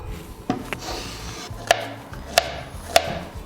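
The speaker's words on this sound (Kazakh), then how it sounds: "Осылай ұсақтап турап аламыз." Banana being chopped into small pieces with a knife on a board, several sharp separate taps at an irregular pace, close by over faint background noise.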